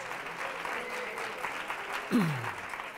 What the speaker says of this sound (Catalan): Molt bé, aplaudim, aplaudim, 155 punts.